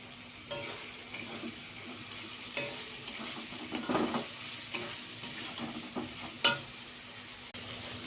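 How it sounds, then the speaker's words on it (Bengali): Chopped tomatoes frying in spiced oil for a chicken dish are stirred in a pan, giving a soft continuous sizzle broken by intermittent scraping strokes of the spoon and a brief clink near the end. "টমেটোটা দিয়ে নাড়াচাড়া করে নিচ্ছি।"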